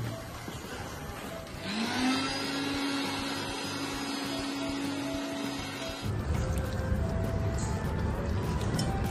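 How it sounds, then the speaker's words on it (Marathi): Mixer grinder whirring as it blends pani puri chutney with added water, a steady loud motor drone that starts abruptly, runs for several seconds and then cuts off to a rough, lower hum. "आता हे पाणी घालून थोडंसं वाटून घेऊया"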